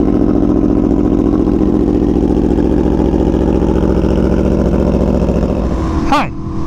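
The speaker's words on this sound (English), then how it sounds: "a cold start on an Aprilia Tuono V4 1100 factory 2017 with an SE Project" A 2017 Aprilia Tuono V4 1100 Factory motorcycle fitted with an SE Project CRT exhaust sits at a loud, steady cold-start idle with a dense, rumbling V4 burble, then a sharp blip of revs near the end.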